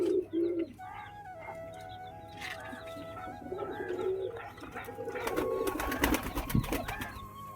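Lotan pigeons cooing after their moult, a series of soft, near coos and calls with brief bursts of wing flutter or rustling, moderately quiet and without talk.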